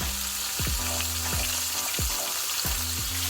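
Frog legs fry in hot oil with a loud, steady, crackling sizzle. Faint, repeated descending tones sound in the background, and no one speaks.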